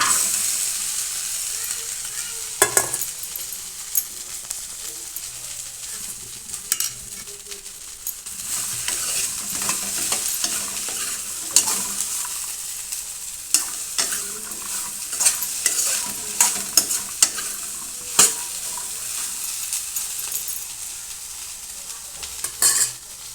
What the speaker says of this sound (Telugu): బెండకాయ ముక్కలు మాత్రమే వేపుకోవాలి.